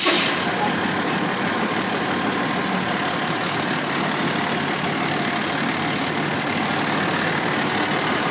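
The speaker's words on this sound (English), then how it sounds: "The engine will start out in the typical neutral position." A fire truck engine idles in neutral with a steady, loud low rumble and broadband noise throughout, opening with a short hiss like released air.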